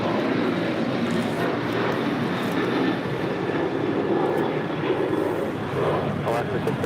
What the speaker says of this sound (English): First outside departure is Philippine Airlines Flight 113 heading back to Manila. It's 777-300ER.